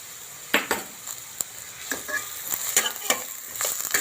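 Onions sautéing in a pan with salt, sharp irregular clinks and scrapes of a spatula over a steady sizzle, close and moderately loud, no voices.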